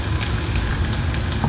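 Crushed onion sizzles in a hot pan with crushed garlic, a steady dense crackle and hiss holding at an even, close level throughout with no voices over it.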